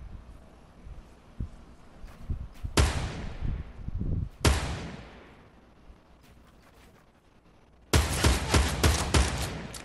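Scoped assault rifle shots crack in Fortnite, a sharp close burst followed by another lone shot and then a rapid volley of several shots, each ringing out with a decaying tail against a quiet background.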